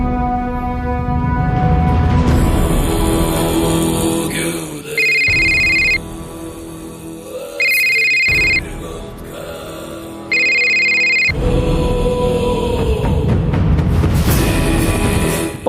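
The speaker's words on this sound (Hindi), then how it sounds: "पांडे का फोन लगा।" A telephone rings in three evenly spaced electronic bursts, cutting through loud music that plays before, between and after the rings.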